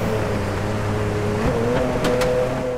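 Engine of a Nissan Skyline GT-R R34 V-Spec II in the racing game Driveclub on a Norway track, a steady, loud mechanical drone holding a sustained pitch with a brief shift partway through.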